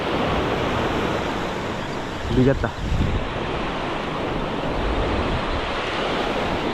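Sea waves washing against the shore while fishing from the coast, a steady broadband roar with wind buffeting the microphone and a short spoken exclamation near the start.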